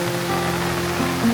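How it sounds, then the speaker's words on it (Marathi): Water from a village waterfall and a swollen, overflowing stream pours with a dense, steady roar close by, without any talking. "आवाजचा वॉटरफॉल"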